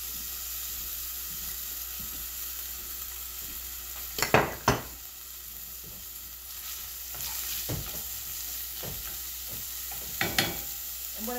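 Onions and tomatoes frying in oil in a pan for Italian-style homemade lasagna, with a steady low sizzle and several sharp clattering stirs scattered through, no talking.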